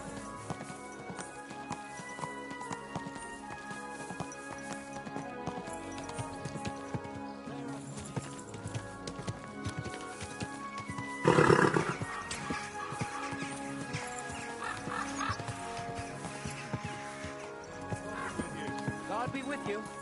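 Horse hooves clip-clop steadily amid a busy, layered background with voices, with a brief louder burst partway through, from the video game Kingdom Come: Deliverance 2.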